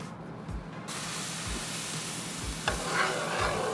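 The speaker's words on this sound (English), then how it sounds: "our sauce is pretty much to a boil right now" Ginger-garlic sauce for Mongolian beef coming to a boil on a Blackstone griddle, a soft steady sizzle and bubbling hiss with a few low knocks and a brief scrape, close and quiet, no talking.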